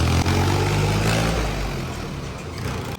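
A small tractor engine runs steadily at close range under hot outdoor conditions, a continuous low mechanical drone with a slight rise early on and no talking over it.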